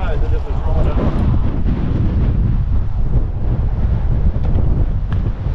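Strong wind buffets the microphone in a loud, continuous roar with gusty low rumble while out yabbying by the water; no clear voices stand out over the blustering.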